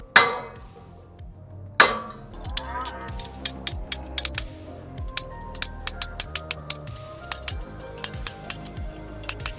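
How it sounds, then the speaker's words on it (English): A hammer strikes a flathead screwdriver to punch a groove into sheet metal for a rusty wheel arch patch panel, ringing metallic blows starting slowly then turning into a quick steady series of taps. "Take any flathead screwdriver and a hammer and punch in a groove"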